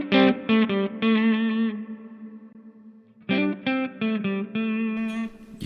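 An electric guitar played through a Donner Arena 2000 multi-effects unit with a Deluxe Reverb 112 impulse response rings out in clear, bright chords and plucked phrases, with a held chord between two bursts of playing.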